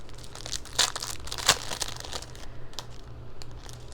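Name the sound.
sheet of paper being handled, crinkling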